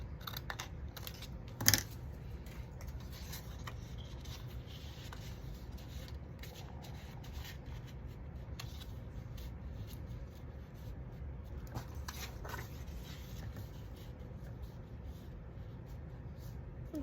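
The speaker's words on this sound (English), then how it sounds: "I'm just gonna cut right under that line." Scissors cutting paper under a drawn line while a book cover is altered, soft steady crunching snips close by over a faint background hiss, with one louder clack early on.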